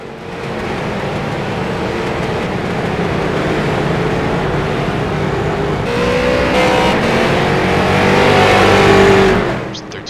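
Street stock race car engines roar at the Charlotte Legends track in iRacing, a steady close drone that swells louder toward the end and then cuts back, running alone with no voices.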